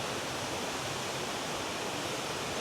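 Waterfall cascading into a cave in Springbrook National Park, a dense, steady roar of falling water with no variation and no voices, loud and close.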